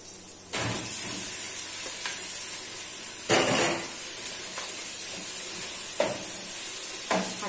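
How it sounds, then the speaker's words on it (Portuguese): Ground beef frying in a pan over onions, with a steady close sizzle and hiss throughout and a few louder bursts of spattering and scraping as the meat is stirred. "Agora eu vou colocar a carne moída."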